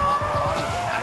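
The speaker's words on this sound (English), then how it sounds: "So when you release the gas, your tail will slide. Then you just counter-steer and control." A drifting car with its tail sliding out, tires squealing in a sustained high whine over a steady engine drone, loud and close throughout the short burst.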